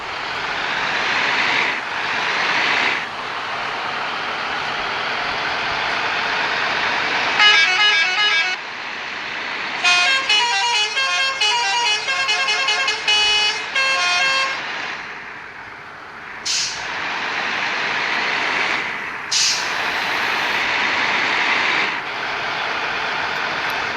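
Bus horns honk repeatedly in traffic in the game Bus Simulator Indonesia while driving an AP RTC bus, with loud, rapid bursts over a constant droning engine.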